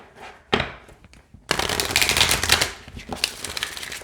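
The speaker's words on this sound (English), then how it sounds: "Let's see how they shuffle." A glossy oracle card deck is shuffled by hand: a brief riffle, a short pause, then a longer, louder stretch of rapid crisp card flutter that tapers into lighter flicks.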